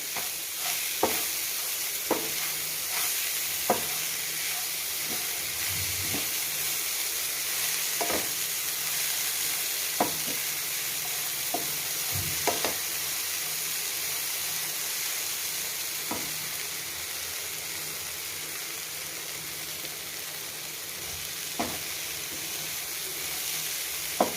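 Agathi keerai greens fry in hot oil with a steady, dense sizzle, while a spoon stirs them and scrapes the pan in scattered clicks and taps, close and continuous with no talking.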